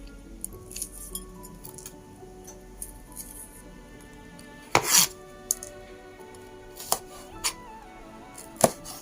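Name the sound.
knife chopping red chilies on a board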